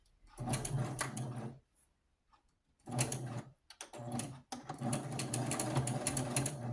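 A sewing machine stitches a doll quilt made from scrap fabric, running alongside a basting stitch in three steady bursts of rapid, even mechanical chatter separated by short pauses.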